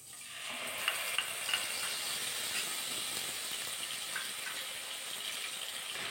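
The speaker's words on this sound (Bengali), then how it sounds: "নাড়াচাড়া করে হালকা একটু ভাজা করে নিয়েছি।" Whole garam masala and spices fry in a pan for a jackfruit curry, giving a steady, close hiss of sizzling oil with a few soft stirring clicks early on. No one speaks.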